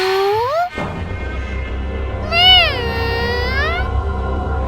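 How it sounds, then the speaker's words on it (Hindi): A cat gives two drawn-out, wavering meows, the second longer and rising, over a low constant rumble, sounding eerie and strained. "वो बिल्ली दोबारा खौफनाक हुलिया इख्तियार करके आवाज देती है"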